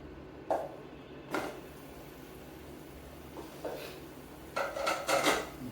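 Metal lid set onto a cooking pot during biryani preparation, a few separate clanks and clinks spaced out over a quiet kitchen background, with a louder rattling contact near the end.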